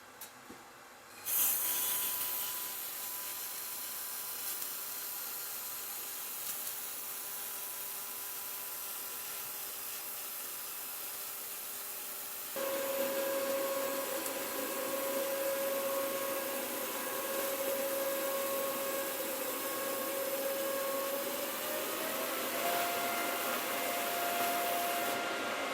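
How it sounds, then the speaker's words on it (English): Handheld laser welder speed-welding a metal mud guard, giving a steady hissing rush with a thin whine that rises in pitch partway through, continuous and close. "I am simply just going to speed weld this using lasers."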